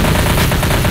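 Loud, dense automatic gunfire rattles continuously in Left 4 Dead 2, rapid overlapping shots with no break across the second.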